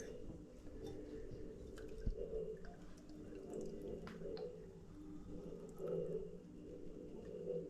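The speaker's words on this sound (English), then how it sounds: "We're going to pour this over our fine mesh sieve and get out all the stringiness." Thick custard for an orange and rosemary crème brûlée poured through a fine mesh sieve, a steady wet, dripping stream with soft squishy splashes, close and continuous for several seconds without talk.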